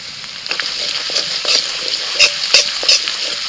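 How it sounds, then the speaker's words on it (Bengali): Chopped garlic and ginger fry in a pan, giving a steady bright sizzle broken by several sharper crackles and stirring scrapes near the end, with no talk. "রসুনটা একটু ভালো করে ভেজে নিতে হবে"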